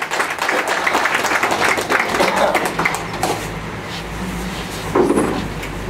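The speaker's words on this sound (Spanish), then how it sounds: "debemos de recibirlo con unos fuertes aplausos apoteósicos a nuestro alcalde provincial" Applause welcoming the provincial mayor at a district gathering in San Mateo de Huanchor, a lively crowd clapping continuously, strongest at the start and then easing off, with faint background noise.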